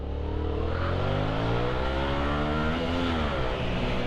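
Yamaha MT07 A2 motorcycle engine riding through city streets, a steady rumbling drone with rising and falling revs throughout, close and loud, no talking.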